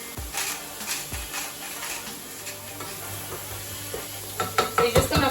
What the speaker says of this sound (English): you're going to fry your vegetables together